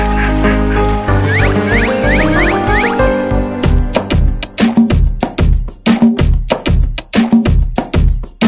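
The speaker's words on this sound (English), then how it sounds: "Mother duck said, quack, quack, quack" Ducks quack in the children's song Five Little Ducks, a string of quick repeated quacks over bright music, followed by a bouncy rhythmic accompaniment.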